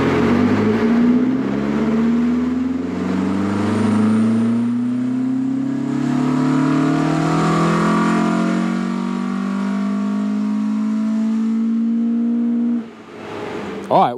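A Mk1 Ford Escort engine on a dyno revs hard and steadily climbs in pitch for several seconds, loud and close, then cuts off abruptly near the end.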